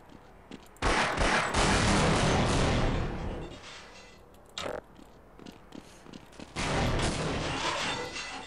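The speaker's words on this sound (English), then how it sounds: "I'm happy with big explosions." Loud, roaring explosions from the video game Half-Life with booming bursts and rumbling gunfire-like blasts, one long blast early, a short burst midway, and another near the end.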